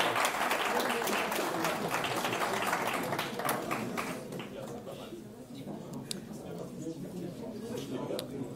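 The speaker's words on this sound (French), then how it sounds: "Bah, on peut l'applaudir." An audience at a talk by a fitness coach for football referees claps steadily and fairly loudly for several seconds, the applause thinning toward the end with scattered claps.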